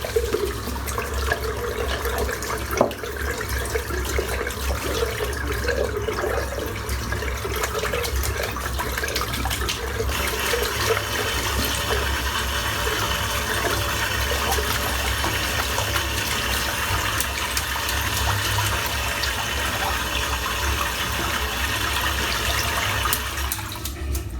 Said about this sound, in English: I'm just going to rinse this brush out.